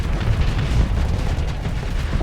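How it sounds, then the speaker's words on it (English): A torpedo strikes floating debris in the space game Starsector, setting off a continuous low, rumbling explosion that churns steadily, loud and close, with no clear separate blasts. "I'm just gonna torpedo this"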